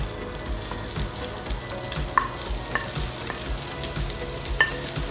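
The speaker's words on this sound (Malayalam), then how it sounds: "ഇനി നമുക്ക് ഷ്രെഡ് ചെയ്ത് വെച്ച ചിക്കൻ ചേർത്ത് കൊടുക്കാം" Shredded chicken stirred into a spice masala in a pan for Malabar chatti pathiri, with steady sizzling and frying and repeated scraping stirs. Some sharp clinks ring out along the way, and there is no talk.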